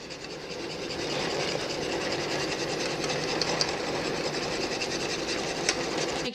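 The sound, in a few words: whisking cocoa mixture quickly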